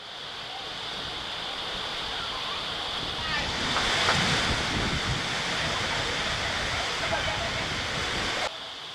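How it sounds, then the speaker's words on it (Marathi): A dense, continuous roar of heavy unseasonal rain and gusting wind in an evening storm in southern Ratnagiri fills the scene, swelling slightly midway before cutting off near the end. "संध्याकाळी वादळी वाऱ्यासह अवकाळी पावसाने जोरदार हजेरी लावली"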